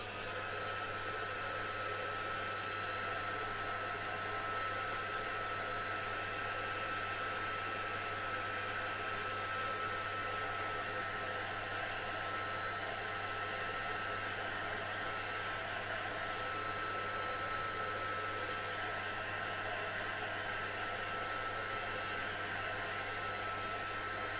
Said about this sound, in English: And the heat gun is going again now.